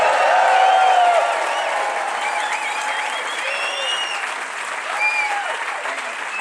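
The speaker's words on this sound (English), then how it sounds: "I just want to make sure that you know there's a live crowd behind me. Let them know how much fun." A live crowd at a John Maxwell training event applauds and cheers, with whistles rising through dense, sustained clapping that eases off slightly toward the end.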